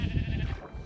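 A sheep in the video game Minecraft gives a single short, close bleat.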